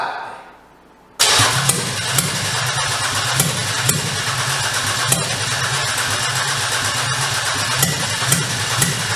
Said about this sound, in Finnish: Tuntuu, että niinku ehkä 1 tai 2 sylinterillä nyt paukuttaa eteenpäin.